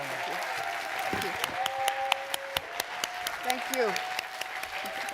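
Audience applause for an author at a literary activism summit, a steady wash of many hands clapping with sharp individual claps standing out, while a speaker talks over it.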